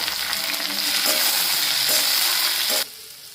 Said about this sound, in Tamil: எண்ணெய் நல்லா காஞ்சோடனே நறுக்கிய வெங்காயம், தக்காளி, பச்சை மிளகாய், கருவேப்பிலை போட்டு நல்லா வதக்கலாம்